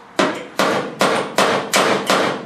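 Five sharp metallic hammer strikes land at a steady, unhurried pace on a truck's stake pockets, each ringing briefly before the next blow, close and loud with no talking.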